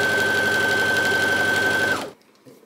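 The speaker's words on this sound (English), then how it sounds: "we're gonna sew along here" A sewing machine runs steadily, stitching along a seam on pieces of high-waisted wide-leg trousers. It holds a close, even motor whir for about two seconds, then stops abruptly and leaves near silence.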